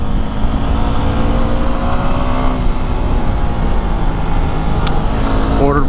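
Yamaha WR250R supermoto motorcycle ridden on random roads up Mt. Eden, a steady, loud engine drone with wind rush throughout and a brief rise in revs near the end.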